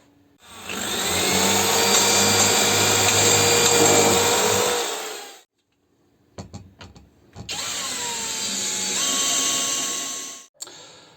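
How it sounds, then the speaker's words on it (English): A power drill whines steadily as it bores a pilot hole into wood end grain, stopping after a few seconds, then briefly restarting with a few clicks before a second sustained run that cuts off abruptly. "you really need to drill a pilot hole, just to guide the screw through and ensure it doesn't split the wood"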